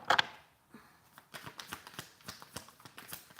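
Oracle cards being shuffled by hand, heard as a quiet, close run of soft riffling snaps and taps in an irregular rhythm, with no talk.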